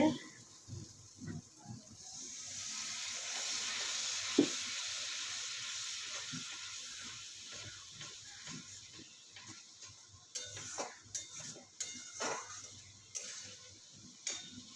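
Potatoes sautéing in a pan, a steady soft sizzle with occasional stirring clinks and taps, fairly faint, with someone talking over it.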